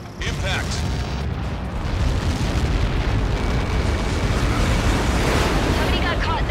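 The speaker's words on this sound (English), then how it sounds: "How many got caught in that explosion?" A massive explosion from Ace Combat 7, with Helios projectiles impacting a blast area: a dense, loud roaring rumble that builds and sustains throughout, like a continuous eruption with wind-like noise on top.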